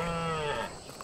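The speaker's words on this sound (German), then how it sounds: "Die Kuh." A cow lowing in the survival game ARK, one drawn-out, fairly faint tonal moo that fades after about two-thirds of a second.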